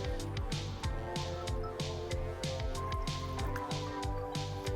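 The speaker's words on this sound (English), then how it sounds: "I'm going to go ahead and fill up my empty tank halfway with water" Water poured from a pitcher into an empty hose end sprayer tank, filling it halfway, giving a steady splashing, gurgling stream close by with no talk.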